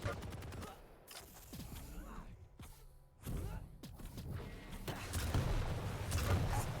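Rocket launcher fire and explosions crack out in a Quake duel match, with sharp repeated blasts and thuds amid dense game action, partly under a commentator's voice.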